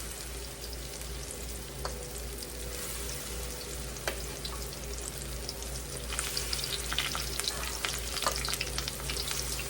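Squash pups fry in a pan, a steady close sizzle and crackle of hot oil with a constant low hum beneath and occasional louder pops and spatters.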